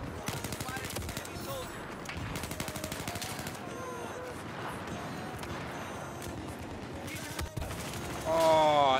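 Rapid automatic fire from an MG4 machine gun in the Battlefield 4 video game, dense continuous bursts filling the whole stretch with clattering mechanical detail, ending in a louder final burst.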